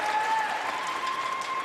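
A crowd at an archery championship shootdown in Vegas breaks into steady, sustained applause, a dense wash of clapping under a faint tonal hum.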